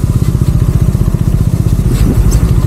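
Motorcycle engine on a mountain road through Zojila Pass in Ladakh, a loud close rhythmic thrumming exhaust pulse that holds steady for the whole moment with no talk.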